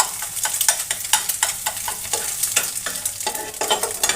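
Egg frying in oil in a pan, broken up with repeated rhythmic scraping strokes of a spatula over a steady sizzle, close and without talk.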